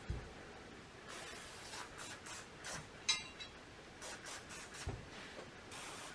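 Quiet, repeated short hissing bursts of an aerosol oil spray onto M1 Garand rifle parts, separated by brief pauses, close by with no talking.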